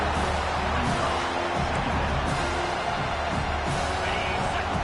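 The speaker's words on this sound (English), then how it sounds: "This crowd knows when to bring it." Football stadium crowd roaring steadily during a college game, a dense, continuous wash of cheering and whoops that stays loud throughout without a break.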